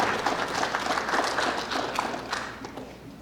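Parents and siblings receive applause from the crowd at a school athletic signing day, a steady, moderately loud wash of clapping lasting the whole stretch with no talk over it.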